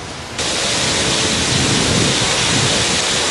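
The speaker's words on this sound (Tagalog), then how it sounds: "Biglang buhos kasi ng malakas na ulan" Heavy rain pours down on a Manila street in a steady, loud hiss after a sudden swell in intensity, with no voices.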